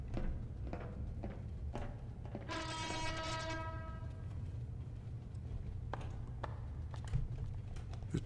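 A distant train rumbles steadily while a long, clear horn blast sounds once in the middle, with scattered sharp clicks and knocks nearby.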